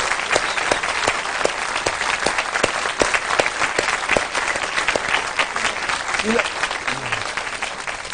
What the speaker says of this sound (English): Carolyn deserves a big round of applause